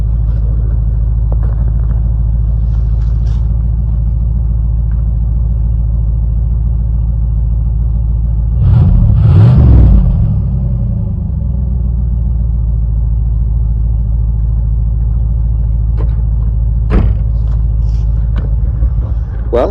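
A 1986 Cadillac found sitting in a field, its engine running steadily after starting, with a continuous low idle rumble throughout, a brief louder surge midway, and voices talking over it.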